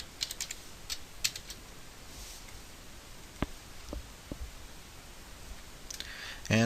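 Keys tapped on a computer keyboard while entering a group name and password, sparse quiet clicks scattered across a low hiss, with a louder thump at the end.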